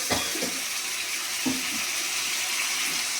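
Water is poured into a pan of snakehead fish curry, making a steady, close wash of running liquid with a few soft splashes and bubbling surges through the pour.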